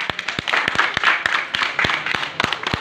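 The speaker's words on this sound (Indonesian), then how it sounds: "tepuk tangan buat Dia" A congregation claps at a church sermon gathering, sharp individual claps standing out over a softer bed of scattered clapping that swells and thins irregularly.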